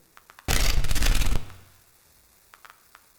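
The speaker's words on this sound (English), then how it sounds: "here's the sound of some corn flying out of my hand, processed through some bit crushers and some vinyl distortion" Corn kernels flying out of a hand, processed through bit crushers and vinyl distortion: a short burst of harsh, crunchy, bit-crushed noise lasting about a second, followed by a few faint crackles and ticks.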